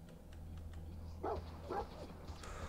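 Dog in the video game Fallout 4 gives two short, separate barks over a low steady game-ambience hum, close but not loud.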